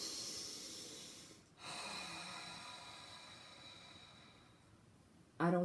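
Big, forceful breaths drawn and pushed through the nose, heard as two long, close, breathy hisses with a brief pause between them and a sharper burst at the very end.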